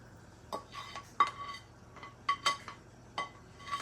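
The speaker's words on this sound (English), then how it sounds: "I'm gonna add some of the meatballs in now" Meatballs go into a cooking pan for a Sunday dinner of smothered meatballs, heard as a quiet, scattered series of sharp metallic clinks and taps of a utensil against the pan.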